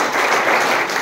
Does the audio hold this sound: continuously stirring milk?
no